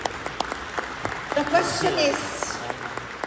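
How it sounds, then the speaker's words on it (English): An audience at a leadership training seminar in Warsaw claps for a team, a patter of hand claps rising then easing, mixed with a speaker's voice talking over it. "Can we give our team a round of applause, please?"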